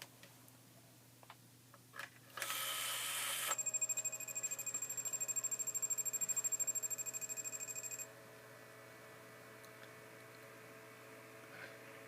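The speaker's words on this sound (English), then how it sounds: "Now when I first plug it in, you'll hear it does its little startup routine where it actually rotates the motor." A Brinsea Mini Advance egg incubator runs its startup routine just after being plugged in. A short burst of noise gives way to a steady motor whine with electronic tones for several seconds, then stops, leaving a low hum.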